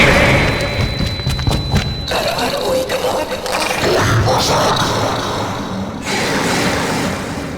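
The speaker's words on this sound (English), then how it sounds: "Captain, grenade!" A grenade going off during a Star Trek video game firefight: several heavy thuds and booms land a second or two apart amid clatter, with voices in the mix.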